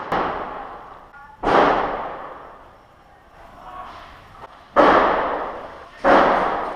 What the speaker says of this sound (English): Then I just sat back and enjoyed the lovely sound of grenades.